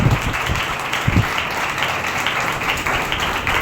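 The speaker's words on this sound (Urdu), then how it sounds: "اچھا یہ تالیاں بجاڑیاں پھر صحیح طرح بجاؤ" Applause fills a church healing meeting, with a steady wash of many hands clapping at moderate loudness from start to end and no voices above it.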